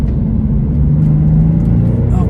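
A car engine holds a steady mid-pitched drone, loud and close, locked in second gear on a Tiptronic gearbox while driving winding mountain roads.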